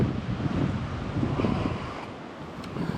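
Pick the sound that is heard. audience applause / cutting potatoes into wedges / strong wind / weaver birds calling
strong wind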